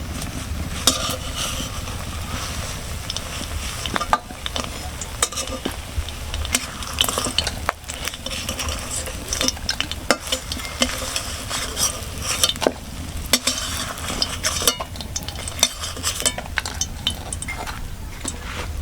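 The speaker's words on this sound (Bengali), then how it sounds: "কত সুন্দর লাল লাল করে বড়াগুলো ভেজে নিয়েছি" Pumpkin flower fritters coated with egg frying in oil in a pan, heard as a loud, continuous close sizzle with frequent stirring scrapes and occasional metal clinks of the utensil, no talking.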